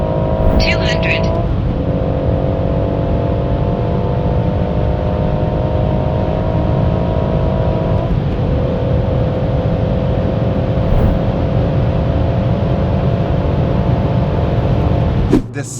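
Stage 2 tuned BMW M140i F20, rear-wheel drive with a manual gearbox, accelerating hard with a loud steady engine drone heard from inside the car, holding long pulls with brief dips between gear changes, a voice speaking over it.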